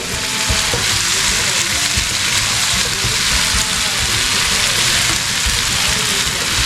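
Tomatoes cook in a pan for a dried Bombay duck chutney, giving a steady, loud sizzle and crackle throughout with faint stirring scrapes underneath and no talking.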